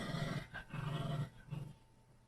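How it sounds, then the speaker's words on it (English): A few deep dog barks and gruff growly woofs in quick succession from a distance indoors, moderately faint, then quiet. "Dogs again."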